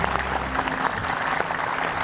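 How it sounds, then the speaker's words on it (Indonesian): A studio audience on an Indonesian television talk show breaks into brief, dense clapping, loud and close, filling the short moment. "Tepuk tangan dong buat mereka."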